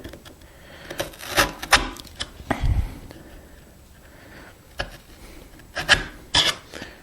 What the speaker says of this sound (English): my last cut is going to be with the chisel right in the baseline